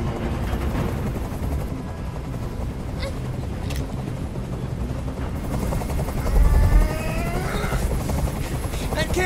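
A helicopter hovers overhead in the video game Detroit: Become Human, its dense, loud rotor roar filling the scene continuously, with a deeper thumping swell midway and faint tonal game sounds layered on top.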